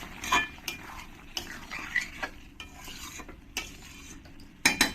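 Rajma kachori filling of potato and spiced masala being stirred and sautéed with a little water in a pan, spoon scraping and clinking in irregular bursts over a low steady sizzle, close and fairly loud, no talking.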